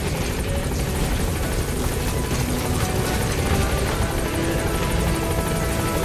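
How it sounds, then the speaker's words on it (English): A helicopter in Metal Gear Solid 5: The Phantom Pain, its rotor giving a loud, constant rapid chop with an engine drone throughout, no voices. "Probably to take out the chopper, I bet."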